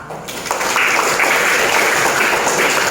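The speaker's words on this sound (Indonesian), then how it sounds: "Ya, kita berikan aplaus." A classroom of students gives sustained, fairly loud applause, a dense wash of clapping that stays steady for about three seconds, with no one speaking over it.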